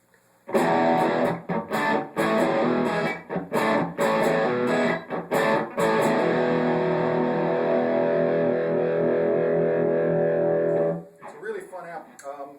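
An electric guitar played through a Blackstar HT20 tube amp head and 2x12 cabinet with a lightly driven, sustained tone, chords ringing out with choppy breaks before the sound cuts off near the end.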